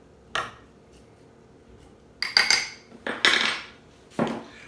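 A spoon scrapes and clinks against a bowl while dried fruit is mixed with a teaspoon of mixed spice, making several sharp clattering bursts separated by short pauses, close by with no voices.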